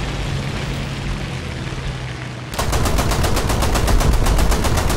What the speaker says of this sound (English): eventually one of these guys is going to machine gun us